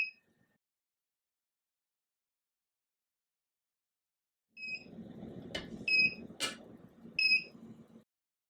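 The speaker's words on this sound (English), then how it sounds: "it's up to temp and it's going to keep beeping until I push enter" After a long silence, a tumbler heat press beeps at temperature in short, high electronic tones several times over some handling and clatter nearby.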